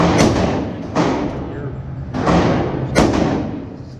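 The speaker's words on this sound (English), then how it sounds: "Keep shooting, move on to a different one if you want." Gunshots at a shooting range come as four loud, sharp reports spaced roughly a second apart, each with a brief echoing tail, and muffled talk sits in the background.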